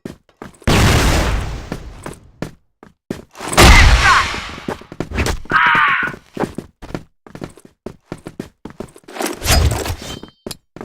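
A flash bomb and bursts of gunfire in a shooter game: several loud booming blasts spaced apart, a ringing ding-like tone in between, and scattered sharp shots and footstep-like thuds.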